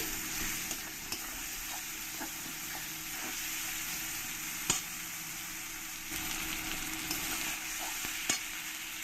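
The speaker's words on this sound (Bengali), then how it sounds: "এবার এর মধ্যে দিয়ে দেবো আমি হাফ চামচ আদা রসুন বাটা" Onions frying in a pan with ginger-garlic paste and green chilli for a spicy fish curry, a steady close sizzle running throughout with a few faint stirring scrapes and taps.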